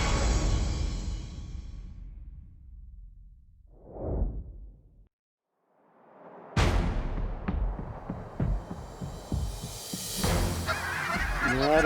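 Geese honk in flight during a waterfowl hunt in Alberta, a distant flock that calls briefly before a quiet spell and then picks up again, with sharp bangs that may be shotgun fire cutting through the later half.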